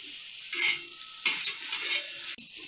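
Garam masala for a Malvani-style wet cashew curry is stirred and roasted in a hot pan, with bursts of sizzling and scraping strokes, close and loud, in three short passes.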